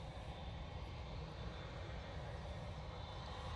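An airliner departing Manchester Airport bound for Shanghai, a steady broad engine roar heard from a distance, quiet and unchanging throughout, with no one talking.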